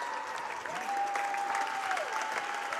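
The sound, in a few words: crowd applauding seniors at basketball game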